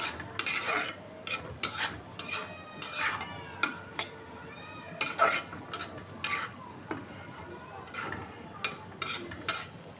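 A utensil scrapes and clatters irregularly against a slippery-bottomed frying pan as noodles are stirred, close and fairly quiet, with a few brief higher squeaks in between.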